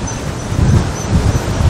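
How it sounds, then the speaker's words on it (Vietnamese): Strong wind blows outdoors on a raised ledge, rumbling low and gusting against the microphone in heavy, uneven pulses. "gà đang đứng ở trên đây mà gió quá trời luôn à"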